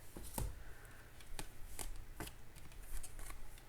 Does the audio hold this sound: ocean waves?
no